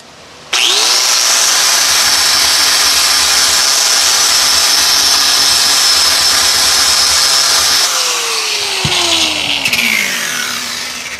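Slag being scraped off a weld with a loud, steady grinding, tool-like noise that runs for about seven seconds, then shifts and fades toward the end.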